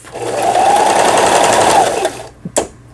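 Sewing machine stitching a quilted seam with a dense stitch setting, a loud close steady whirring run of about two seconds that stops, followed by a couple of sharp mechanical clicks.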